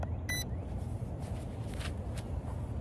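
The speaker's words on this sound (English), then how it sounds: "you wait for that beep" An A16 GPS camera drone emits a single short, bright electronic calibration beep near the start, followed by quiet handling and faint background noise.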